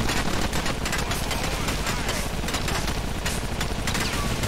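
Gunfire in GTA IV: The Ballad of Gay Tony keeps up a dense, nonstop barrage of overlapping shots and bursts, loud and continuous from start to end.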